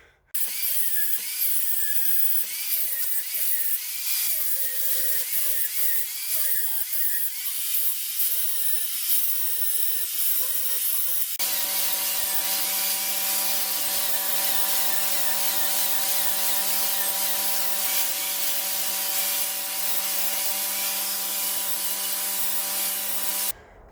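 Angle grinder with a stone wheel and then a flat disc grinding down welded metal on a wrought iron anvil horn from the 1850s, a loud continuous abrasive whine that shifts to a steadier, more tonal hum midway, with no talk.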